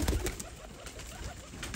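A racing pigeon of the Jeera breed coos softly a few times, low and fairly close, with faint background hiss.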